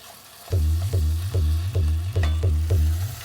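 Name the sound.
beef searing and being stirred in a hot pan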